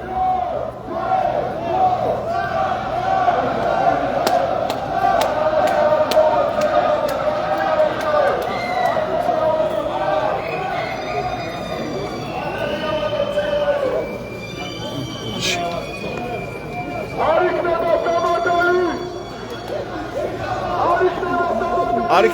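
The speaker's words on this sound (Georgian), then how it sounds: "ასეთი გზავნილები და შეძახილები გვესმის ჩვენ ამ საპროტესტო მარშზე" Protest march crowd in Batumi chanting political slogans while megaphone calls ring out, with loud rhythmic shouting, overlapping voices and chatter, and a steady crowd roar throughout.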